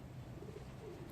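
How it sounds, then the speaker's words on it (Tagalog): Pigeons at a playground coo softly in a low, faint, continuous murmur, with no voices during the brief moment. "ang daming ibon dito"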